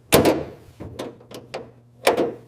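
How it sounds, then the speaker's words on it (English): Hood of a 1967 Shelby Cobra in a barn-find restoration being shut, giving a loud solid thunk near the start, a few lighter knocks and clicks, then a second firm thud near the end, all close by with no talk. "Closing the hood."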